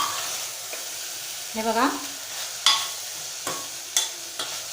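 Sprouted red cowpea curry being stir-fried in a pan after the lid comes off, with a steady sizzle and several sharp spatula scrapes, close by; someone speaks briefly.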